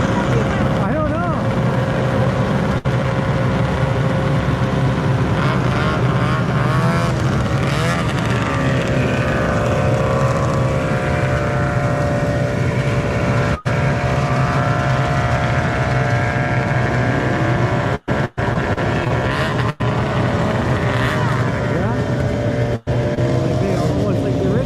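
Vintage snowmobiles ride past a trail road crossing, their engines whining loud and close in a sustained passing roar, with pitch sweeping as machines go by and voices underneath.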